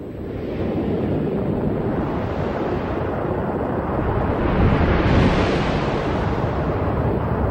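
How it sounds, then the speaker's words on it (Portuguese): Jupiter's bow shock, captured as electronic data by a space probe, plays back as a steady, loud, wind-like rushing roar that swells slightly midway and carries no voices. "o choque em arco do planeta gigante, que produz um som como o vento nos dados eletrônicos"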